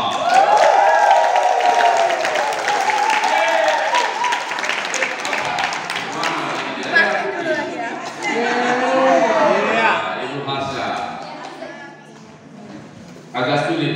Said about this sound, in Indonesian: mari sambut dengan tepuk tangan Ibu Hasya